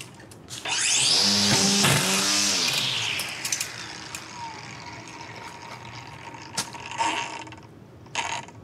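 A DeWalt string trimmer feeding out string: a loud close mechanical whine and ratcheting rattle rising in pitch for about two seconds, then fading into sparse clicks and small knocks.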